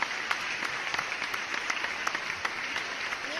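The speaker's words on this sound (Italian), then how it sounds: "un altro applauso, forza!" A studio audience at a televised talent show finale applauds steadily, with dense clapping holding at an even level for the whole stretch.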